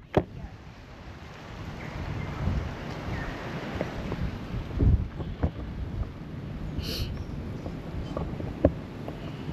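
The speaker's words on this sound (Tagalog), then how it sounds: "Humangin ng todo." Strong wind gusting along the Hashimoto Memorial Walk among cherry blossom trees, a loud rumbling buffet of air across the microphone that swells and surges unevenly, with occasional bumps and knocks.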